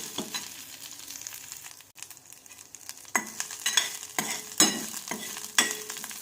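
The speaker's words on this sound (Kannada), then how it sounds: "ತುಪ್ಪ ಹಾಕಿ ಚೆನ್ನಾಗಿ ಹುರ್ಕೋಬೇಕು. ಆಮೇಲೆ ಜೀರಿಗೆ ಹಾಕೋಬೇಕು." Ghee sizzles in a pan as cumin goes in and gets stirred, with a constant frying hiss and sharp, close scraping strokes that come more often toward the end.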